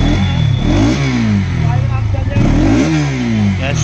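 Stock exhaust of a 200cc Bajaj Pulsar NS200 motorcycle revved up and down twice, rising and falling engine tone, close and loud, with a steady idle between throttle blips.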